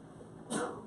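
A single short sneeze, fairly soft and close, breaks a quiet room with a faint steady hum.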